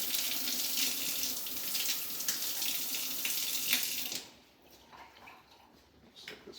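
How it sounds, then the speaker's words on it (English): A sprayer part rinsed under a running tap, a steady close hiss of water splashing for about four seconds before the flow stops, leaving faint drips and handling noise. "And usually I'll rinse this one out."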